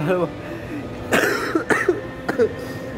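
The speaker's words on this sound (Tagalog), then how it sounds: "May ubo pa rin ako mga surprise." A few short, sharp coughs break up a speaking voice, close and fairly loud.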